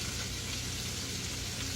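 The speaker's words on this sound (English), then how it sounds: "I have my grease on about 8 because I do want them to fry fairly fast" Thin-cut steak fingers fry in hot grease on fairly high heat, giving a steady, close, continuous sizzle and crackle with no pauses and no voices.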